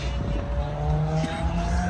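A car engine with a loud exhaust revs loudly and steadily with a deep rumbling drone and a rising whine, sounding close with New York City traffic noise around.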